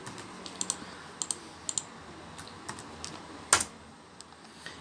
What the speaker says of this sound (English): So let's type in this.